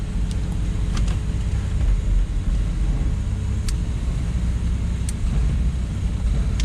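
Volvo 960 with a swapped carburetor driving in second gear, a steady low engine rumble and road noise from inside the car, with a few faint clicks and no talking.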